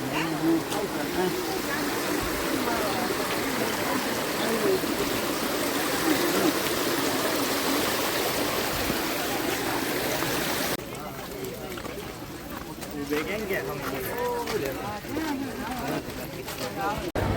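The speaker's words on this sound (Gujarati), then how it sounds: "જો પાછું પાણી આવ્યું અહીંયા એટલે છે ને અહીંથી વહી જાય" A steady broadband rush of a water stream crossing the Girnar pilgrimage trail, continuous and fairly loud throughout, with voices talking over it.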